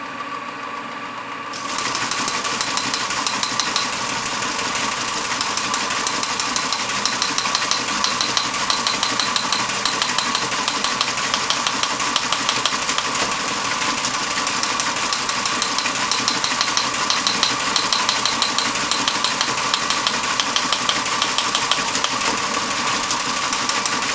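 A Model 28RO Teletype machine starts up and prints at 60 words per minute, a steady loud mechanical clatter with fast, even rhythmic ticking that runs continuously after a brief quieter start.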